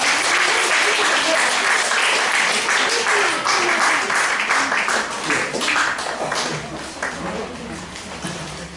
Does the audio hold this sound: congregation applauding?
yes